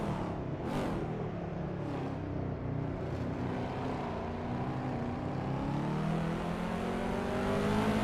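Race car engines roar continuously in a video game race, including a modern Chevrolet Corvette C6 street car, with steady droning revs, rising pitch as cars accelerate, and a car passing by early on.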